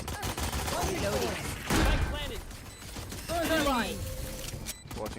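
Weapon reloading in Valorant produces quick mechanical clicks and metallic ratcheting amid gunfire-like bursts, with voices talking over the action.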